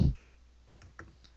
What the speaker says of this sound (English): Are you typing?